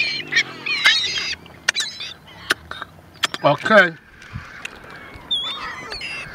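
Seagulls being fed chicken sandwiches and fries give sharp, repeated squawking calls close by, with someone speaking briefly over the flock.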